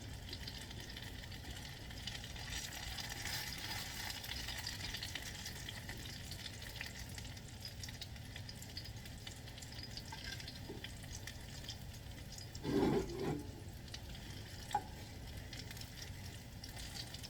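Apple fritters frying in a Finex cast iron skillet give a steady, soft sizzle and bubbling of hot oil throughout, with a brief louder clatter near the end and no talking.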